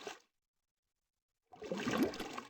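Watery churning of clay stirred in a water basin in a Minecraft modpack, a brief splash at the start, then a short sloshing swirl after a pause.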